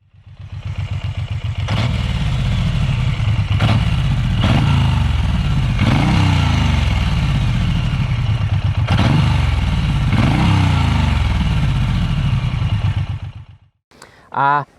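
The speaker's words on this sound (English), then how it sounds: "This bike just sounds absolutely beautiful." A motorcycle engine idles with a lumpy, throbbing rumble, revved up several times in surges, close and loud, then cuts off near the end.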